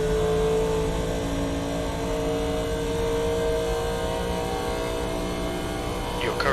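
A NASCAR Legends race car at Michigan in iRacing holds a steady, droning engine note that rises gradually in pitch as the throttle eases open, loud and continuous throughout, with no one talking.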